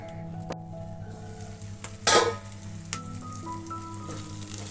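Masala paste frying in oil for an egg curry, a low steady sizzle with a sudden louder burst of spitting and a few clinks of a utensil, fairly close and without speech.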